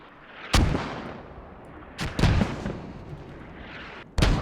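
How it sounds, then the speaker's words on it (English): Mortar fire in the video game Squad: several heavy booming impacts, spaced irregularly, each with a rumbling tail over a faint background. "Mortars being activated."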